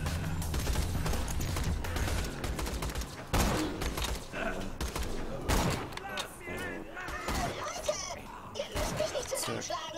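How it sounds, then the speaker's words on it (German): Gunfire in Borderlands 2 rattles in dense, loud, close bursts and scattered single shots throughout, with voices talking over the shooting in places. "Dank dir stehe ich unter einem Beschuss"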